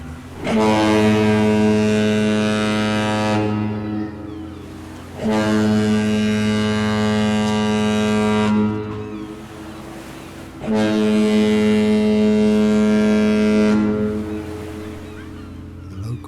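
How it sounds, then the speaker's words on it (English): Deep horn blasts from a passing ocean liner, three long sustained blows separated by short gaps, loud and resonant with no voices. "the sound of a passing ocean liner"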